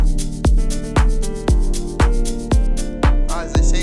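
Bright hi-hat ticks run through a loud deep house beat, riding over a steady four-on-the-floor kick and sustained chords.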